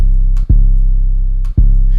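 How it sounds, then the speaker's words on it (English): A heavy, loud Spinz 808 bass sample in a drill beat, two deep booming hits with gliding pitch that sustain and hum, separated by brief gaps and played alone. "Listen to the spins 808."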